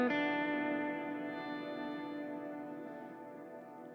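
Guitar played through a Headrush pedalboard with reverb switched on: one sustained, heavily processed distorted chord rings out and decays slowly over four seconds, with a lingering reverb tail and no voices.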